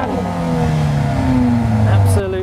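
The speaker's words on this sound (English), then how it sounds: "You've got this performance exhaust. Let's put that bad boy on." Mercedes-Benz GLA 45 AMG with a performance exhaust revs loudly close by, engine pitch climbing steadily before dropping off near the end, with a brief sharp burst at the peak.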